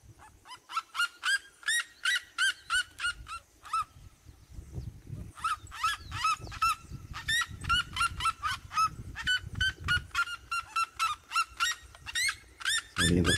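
A pair of seriemas in São Paulo call in long runs of rapid, yelping, honk-like notes that come in repeated bursts with short pauses, fairly loud and clear with no voices over them.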